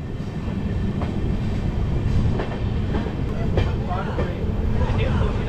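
A train on the Krishnanagar line crosses the Basipur rail bridge into Azimganj, heard from on board as a loud steady rumble with rhythmic wheel clacks and a few metallic clicks, with a voice speaking over it.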